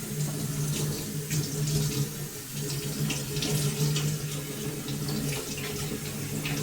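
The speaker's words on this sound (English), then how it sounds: "I'll just rinse off the pak choy." Pak choy rinsed under a running kitchen tap, a steady close splash of water into the sink with hand movements breaking the flow, continuous for several seconds with no talking.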